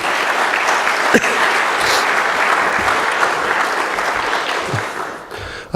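An arts lecture audience gives a sustained round of clapping for a jazz musician, loud and even with a few sharp individual claps, tapering slightly at the end.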